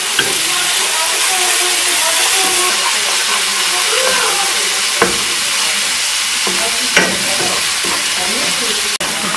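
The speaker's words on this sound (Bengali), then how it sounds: "এই পেস্টটা ভালো করে ভাজার পরে আমি পেঁয়াজটাকে দিয়ে দিব" Minced ginger, garlic and green chili paste fries in hot oil with a loud, continuous close sizzle, broken by occasional scraping stirs of a spoon against the pan.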